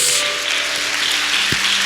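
A church congregation gives strong applause to God during a Sunday service, a broad continuous roar of clapping that stays loud and even throughout, with a low tonal hum from the room beneath it.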